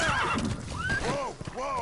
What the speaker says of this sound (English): But because I'm pushed for time, I will do it on a horse.